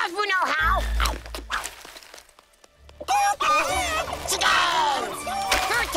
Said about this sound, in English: Chickens! Good time, chickens!